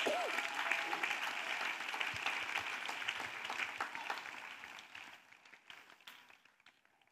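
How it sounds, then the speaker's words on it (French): Congregation applauding during a church service, sustained clapping from a crowd that gradually fades out toward the end, with a brief voice near the start. "Acclamons jesus Let's clap for Jesus."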